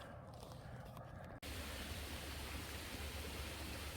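A creek flows along a hiking trail in a steady rush of water. The sound is soft and muffled at first, then opens into a fuller, louder wash after a brief dropout partway through.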